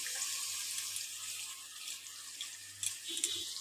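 Water poured from a bowl into a cooking pot while making a thin vegetarian egg curry, a steady, soft liquid stream running close by with a brief splashy burst near the end.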